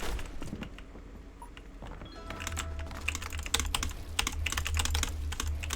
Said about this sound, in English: Bro, this keyboard is so bad.